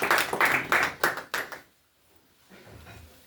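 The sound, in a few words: congregation clapping for Jesus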